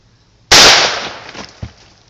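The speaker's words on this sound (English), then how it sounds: "Alright, next shot is buckshot." A single sharp, loud shotgun blast firing buckshot into ballistic gel, with a sudden crack, then a decaying rumble and a small thud afterward, heard alone without talk.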